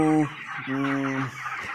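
Broiler chickens cluck and call close by in a poultry shed, two drawn-out tonal calls over a steady background of flock noise.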